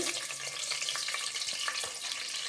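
Garlic and onions fry in hot oil with a continuous soft crackle and sizzle, with faint stirring and one small clink near the end.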